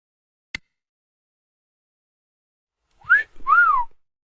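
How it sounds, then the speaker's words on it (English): A person whistles through pursed lips: a faint click, then a pause, then two clear, close whistled notes, the first short and rising and the second longer and arching, with no other sound. "He whistled a tune."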